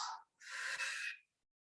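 A deep inhale during a qigong session in a wide horse stance, heard as one long, breathy intake of air lasting about a second, close and clear, following a brief earlier breath, with silence after.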